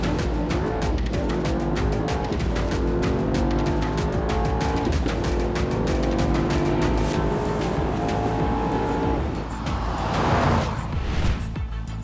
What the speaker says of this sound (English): Or the brute soundscape of the AMG engine